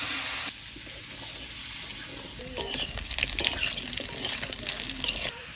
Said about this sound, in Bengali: মাছ ভাজার এই তেলটার মধ্যে আলুটা ভেজে নেব একটু লাল লাল করে।